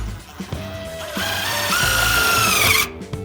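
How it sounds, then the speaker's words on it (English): Power drill driving screws to fasten ice flag snow guards onto a metal roof, a close, loud whirring that rises in pitch and holds before cutting off abruptly. "we're going to be installing the ice flags now, halfway between each seam, and we're just going to screw it right in there"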